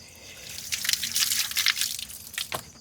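Water running while someone washes, a soft splashing and dribbling stream with irregular drips and gushes, fairly close and quiet, with no talk.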